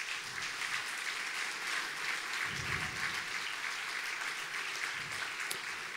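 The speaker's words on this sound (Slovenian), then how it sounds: "da društvu ponovno namenimo en bučen aplavz" Steady, loud audience applause fills a charity concert for abandoned animals, a continuous dense wash of handclaps without pause or speech.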